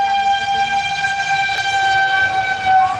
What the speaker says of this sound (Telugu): మా ఇంటి ముందు ట్రైన్ పోతుంది చూడండి